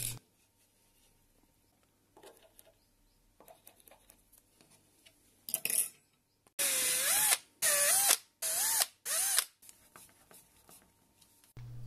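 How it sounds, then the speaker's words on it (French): Four short bursts of a power drill boring screw pilot holes whine up and down in quick succession, close by, preceded by light tapping and scraping of handling. "je perce des avant-trous des vis avant de passer en peinture"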